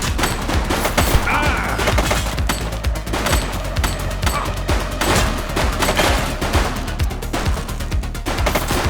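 A sustained, loud burst of rapid automatic gunfire rattles on without a break, dense and close, during a police shootout in the retro crime video game The Precinct.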